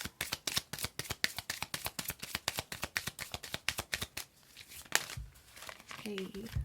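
A deck of Romance Angels oracle cards being shuffled by hand in a quick, steady rhythm of crisp riffling bursts, which pause briefly near the end before a softer rustle.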